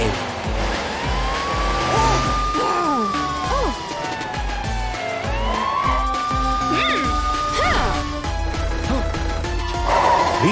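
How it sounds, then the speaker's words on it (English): A toy police car siren wails in two long rising-and-falling sweeps during a children's toy play scene where the police car chases a toy crocodile, with busy background sounds beneath. "here's Matilda the police car chasing Crocomile"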